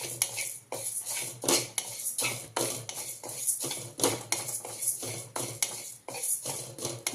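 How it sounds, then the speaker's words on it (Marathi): Dry lentils roasting in a pan for homemade chakali flour, stirred steadily so a spoon keeps scraping and clinking against the metal in a quick, uneven rhythm, close and fairly loud with no voices. "डाळ आपण भाजून घेऊया."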